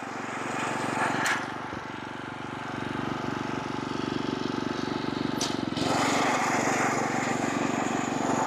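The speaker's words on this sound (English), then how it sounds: "going over it with the mower here is probably not the best decision" A lawn mower engine runs steadily over newly sprouted grass, a loud, continuous droning hum that dips briefly and then rises again as it moves, with a couple of faint scraping sweeps.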